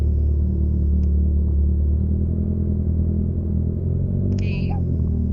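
A 400cc motorcycle cruising on a test ride gives a steady low engine rumble that stays loud and even throughout, with a brief higher-pitched sound near the end.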